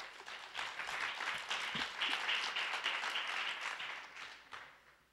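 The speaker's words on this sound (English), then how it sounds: "Applause." Audience applause at a division spelling bee, a sustained burst of clapping for about five seconds before it thins out.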